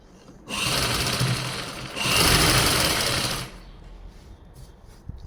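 Sewing machine stitching the folded hem edge of a salwar, a close, steady rapid whirring burst of about three seconds that dips briefly then resumes louder before stopping into quiet room sound.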